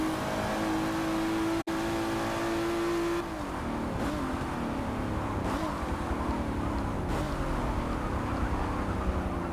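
Aston Martin DBR1 race car engine in the Forza racing game, a steady droning roar with a held high tone that drops away, then continuous loud engine noise with periodic surges as the car laps.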